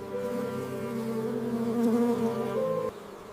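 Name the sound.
drone honeybees buzzing inside a hive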